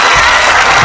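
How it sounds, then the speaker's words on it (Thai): Audience applause for a contestant on the Killer Karaoke Thailand stage show, a steady, dense wash of clapping filling the short moment at full loudness with a faint crowd murmur. "ขอเสียงปรบมือให้กับพี่สุดใจครับ"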